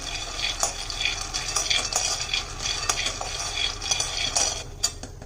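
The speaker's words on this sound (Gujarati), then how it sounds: "દાણાને શેકી લેવાના છે। કન્ટિન્યુ આવી રીતના હલાવતા રહીશું જેથી કરીને બધા દાણા ઇવનલી શેકાઈ જાય।" Peanuts dry-roasting in a pan over a medium-low flame for peanut chikki, stirred continuously so they roast evenly, with a steady scraping rattle of nuts and spoon against the pan, close and fairly even.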